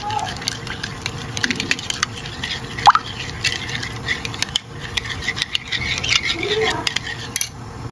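Melon Nutrijel powder is dissolved in about 200 ml of water. A spoon clinks and scrapes against the container in quick irregular taps, with soft liquid sloshing, while someone talks over it.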